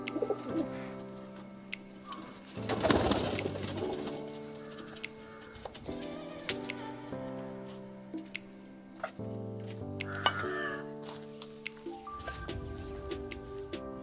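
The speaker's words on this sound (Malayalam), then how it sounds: "ഇതാണ് പ്രാവ്" Pigeons being kept and trained give soft, low cooing calls, repeated several times at close range. A steady, faint tonal hum sits in the background.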